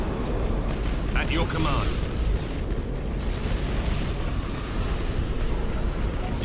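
Ship explosions in the space battle game Battlefleet Gothic: Armada rumble as a dense, continuous low roar under game voice lines and radio chatter.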